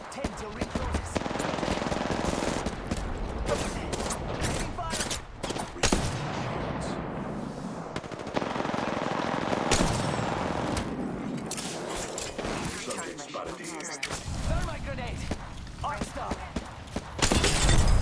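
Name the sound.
gunfire in a video game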